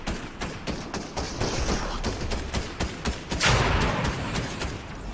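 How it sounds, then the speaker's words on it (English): Bursts of gunfire in Fortnite, a video game, crackle in rapid, irregular volleys with thuds, louder and denser toward the end, no voices over them. "Someone is shooting."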